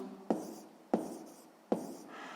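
A pen writes on paper during a sixth-grade maths exercise, three short sharp strokes or taps each followed by a soft scratching trail, close and quiet with no talk.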